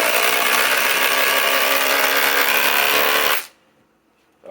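A RIDGID 4-mode impact driver at full 2400 inch-pound mode drives a thick 4-inch lag screw with no pilot hole, a loud, close, continuous hammering rattle that cuts off abruptly, then briefly restarts.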